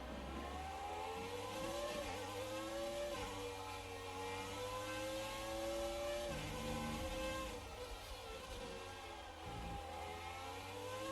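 An F1 race car engine in F1 2019 at Interlagos runs continuously and quite faintly. Its pitch rises and falls through the gear changes of a twisty section.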